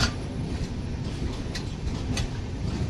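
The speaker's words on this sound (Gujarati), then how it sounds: "કટાક કટાક કટાક કટાક બાકી આ ટ્રેનનો અવાજ રહ્યો ને અવાજ સાંભળવાની મજા આવે" A train heard near Bandra station in Mumbai, a steady broadband rumble of rolling carriages with faint intermittent clatter from the wheels on the rails, continuous throughout with no talking.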